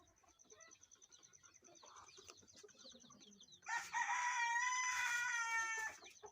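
A rooster crows loudly and close by on an egg-laying hen farm, a long harmonic call after a stretch of quieter bird chatter and soft clucking.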